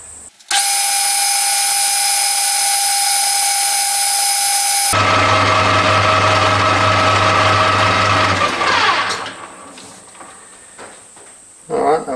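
Metal lathe turning a taper on a part for a Stuart Turner No. 8 mill engine, a loud steady high-pitched machining whine with a strong low motor hum joining midway, then tailing off into quieter shop noise near the end.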